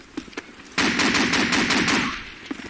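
Rapid automatic gunfire from a Call of Duty 2 PC multiplayer match on the Bunker map bursts loudly for over a second after a few faint earlier shots, then trails off into scattered single shots.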